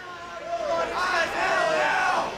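Crowd cheering and whooping at a fighting robot competition, a swell of overlapping voices rising in the middle and holding loud before easing off, mixed with shouts.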